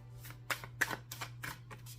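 Cards riffle and snap in a series of quick shuffles, crisp and close, with a low steady hum underneath and no talking.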